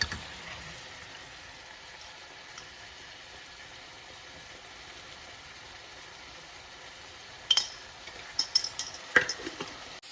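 Chhena frying in a wok with cumin, ginger and red chilli powder, a steady low sizzle with faint stirring, then a few sharper scraping clicks of a spatula near the end; no voices.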